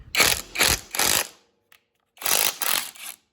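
An Avhrit 1/2-inch impact wrench hammers on a lug nut in five close, loud rattling bursts, three in quick succession, a short pause, then two more.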